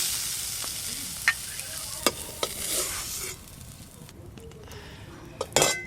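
A spoon stirs egg curry with onions in a pan over a clay stove, sharp metallic scrapes and clinks over a soft sizzle that thins out as the moisture cooks off.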